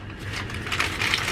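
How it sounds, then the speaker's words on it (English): A brown paper bag holding a beer can crinkles and rustles up close in quick, uneven bursts, growing a little louder toward the end. "Let's pop this can out of this brown paper bag."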